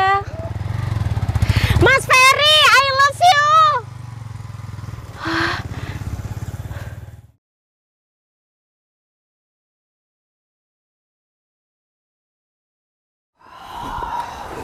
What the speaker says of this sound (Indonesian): Banyak motor.